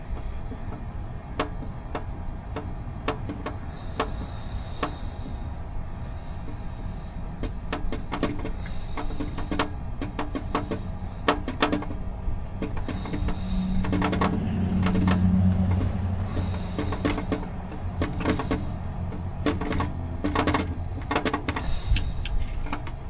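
A ratchet works loose the mounting bolt of an A/C compressor on a Ram 6.7 Cummins truck, giving steady, close metallic clicking and rattling over a constant low shop background, with no one speaking.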